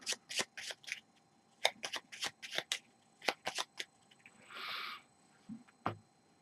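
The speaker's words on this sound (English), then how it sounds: "we need to shuffle the hit location deck" A hit location card deck from the Kingdom Death: Monster board game is handled with a run of crisp card taps and clicks, then a short riffling burst of shuffled cards, close and quiet.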